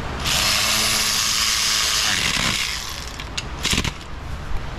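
A power ratchet running down large axle bolts on a 2008 Hummer H2 with a 6.2L engine, a loud continuous buzzing whir for about two seconds, then quieter clicks and rattles as it finishes.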